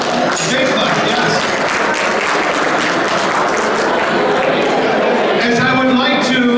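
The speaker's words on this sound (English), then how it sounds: "Big clap, yes." Guests at a Pakistani-descent physicians' society Ramadan dinner give a big, sustained round of applause, steady dense clapping with some murmuring voices mixed in.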